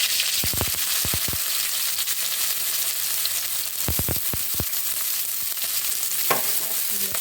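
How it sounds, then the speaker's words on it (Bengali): Chopped onion and green chilli frying in hot oil in a pan, a steady bright sizzle throughout with a few clusters of sharp clacks as a spatula stirs and scrapes, close by. "নাড়াচাড়া করে নেব।"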